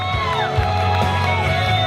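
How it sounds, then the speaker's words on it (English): Wedding guests whoop, cheer and clap after a mother-son dance, a dense, lively crowd roar with shouts rising over the hall's background music. "How about a round of applause on a beautiful mother-son dance?"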